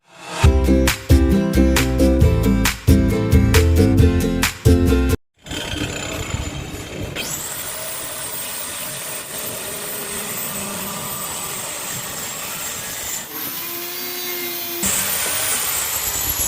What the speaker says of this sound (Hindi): तो अभी हम काटेंगे 45 डिग्री एंगल में।